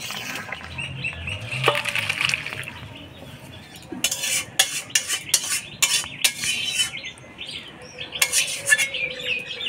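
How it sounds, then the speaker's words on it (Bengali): A spoon stirs chopped coriander leaves into a fish and greens curry in a metal pot, with repeated scraping strokes against the pan that come in close, uneven bursts. "এবার ধনিয়া পাতার কুচি দিয়ে নাড়াচাড়া করে নামাই দেব"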